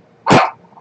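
A single loud, sharp bark from a dog indoors, close by and short, with quiet before and after.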